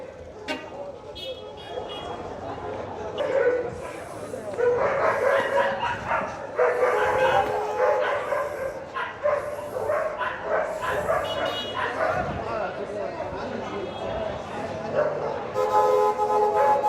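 Dogs bark repeatedly amid a busy, noisy crowd at an outdoor Friday dog market, with people talking throughout and the barks mixing into the steady market din, some sounding fairly close.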